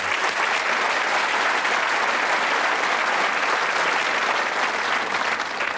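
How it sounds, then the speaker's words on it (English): A studio audience at the 1989 Bullseye game show applauds loudly and steadily, a dense, continuous wash of clapping that holds even for about six seconds, close and full. "Give them a round of applause."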